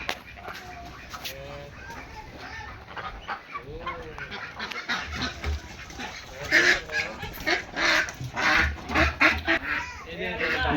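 Ducks at a duck farm in Natore honk and quack repeatedly in a noisy, overlapping flock, growing louder and busier toward the end, with people talking in the background.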